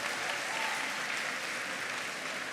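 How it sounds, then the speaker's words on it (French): Steady, dense audience applause at a Toulouse game show conference panel with Charmed actors, an even wash of many hands clapping from a large crowd, sustained throughout. "on peut les applaudir encore une fois pour la réponse"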